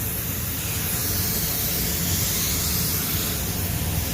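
HVLP spray gun misting paint onto a car fender, a steady broadband hiss held close and loud without a break.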